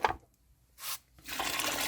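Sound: water being poured

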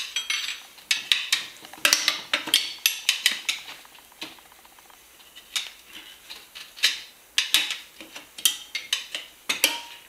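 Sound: tire irons levering a motorcycle tire off the rim

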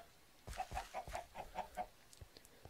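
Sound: chickens clucking in a video game

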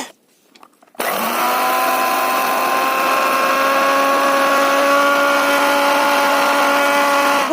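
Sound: grinder making paste of mustard seeds with green chilli

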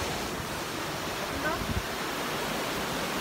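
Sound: sea waves on the Jeju island shore

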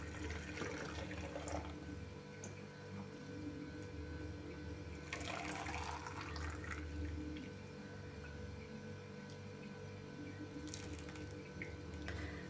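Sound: boiling marinade poured over tomatoes in a jar

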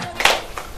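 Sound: audience applauding debate contributors

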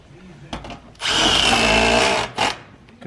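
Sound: impact driver driving small screws

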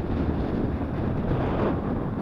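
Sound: strong wind

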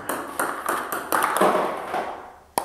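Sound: table tennis ball bounced on a paddle while practising spin

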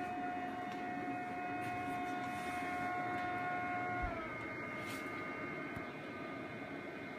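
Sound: Koolance EXC-800 PC water chiller compressor and fans running

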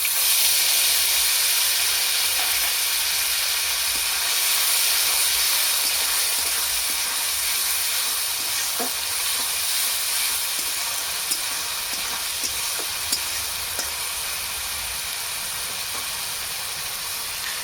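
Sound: dried chilli, bay leaf, cardamom, cumin, cloves and onion paste frying

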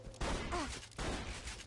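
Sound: shotgun firing in the video game Borderlands 2

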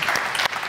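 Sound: audience applause

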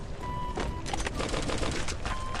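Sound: gunfire from a MAC-10 in the video game Free Fire

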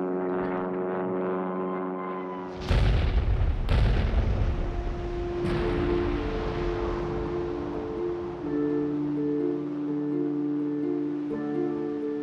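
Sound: bombs exploding on a captured German battleship

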